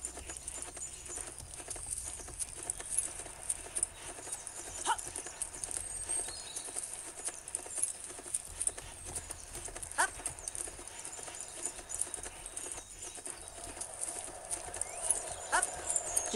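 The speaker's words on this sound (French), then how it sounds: "Altaï c'est son cheval" Steady horse hooves clip-clop softly and continuously in the Alexandra Ledermann 9 horse-riding video game, a faint rhythmic patter with occasional sharper clicks and no voice over it.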